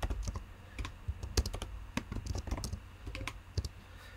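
A title typed on a computer keyboard, with quick irregular bursts of close, crisp key clicks and short pauses.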